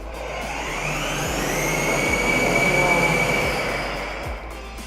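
A Volta remote-control toy motor whines loudly at maximum speed, a sustained high rising whir with a low rumble underneath and faint periodic clicks.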